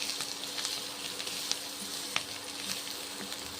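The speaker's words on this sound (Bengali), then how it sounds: "মিক্স মশলা দিচ্ছি 1 চামচ। ভেজে নিচ্ছি" Mixed spices fry in a pan with a steady sizzle, broken by a couple of sharp clicks of a stirring spoon.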